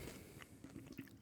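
Someone bites into a crunchy Feastables chocolate bar with puffed rice, giving several short, close crisp crunches followed by soft chewing.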